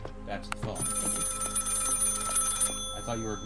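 An old telephone rings in a horror video game, a sustained electronic trill lasting about two seconds, with people talking before and after.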